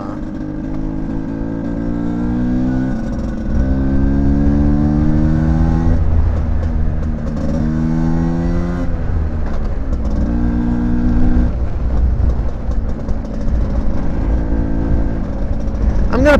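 A Genuine Stella scooter fitted with a Malossi 166 kit rides down a town street in Southington, Connecticut. The engine is loud and close, revving up through the gears in repeated rising pulls, with wind noise and a voice talking part of the time.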